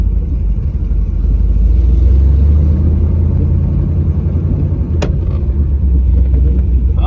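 A 1957 Chevy Bel Air engine runs loud and close with a deep steady rumble, a single sharp click cutting through partway.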